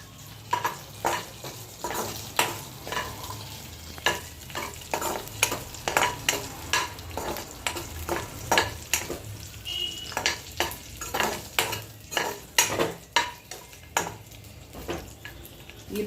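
Cumin, curry leaves, garlic and mustard seeds fry in a pan, a constant close sizzle broken by repeated crisp spatula scrapes and clinks against the metal, with no one speaking.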